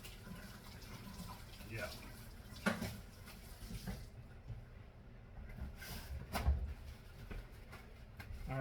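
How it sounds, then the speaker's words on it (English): A meat basting brush is rinsed under a running kitchen tap, a steady wash of water with brief splashes and knocks, and a person speaks briefly over it. "gonna wash off my paintbrush, or meat brush"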